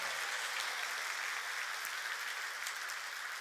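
A church congregation applauding during a Wednesday worship service, a continuous even wash of many hands clapping, moderately distant and without voices over it.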